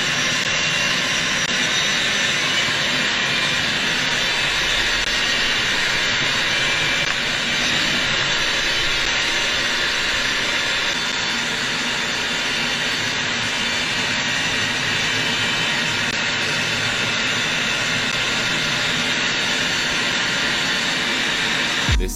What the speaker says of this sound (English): These F-35s doing a low flyby.